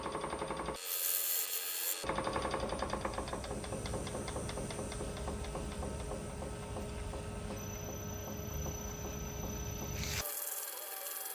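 Sanding the inside of a turned wooden root ball bowl with 600-grit paper on a lathe: a steady, continuous rubbing hiss with fine rhythmic ticking from the spinning wood, close and alone.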